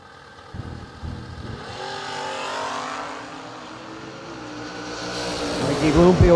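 A drag racing car launches hard off the line in a wheelie at a season kick-off bracket race, its engine roaring and building to a loud close rev while an announcer talks throughout.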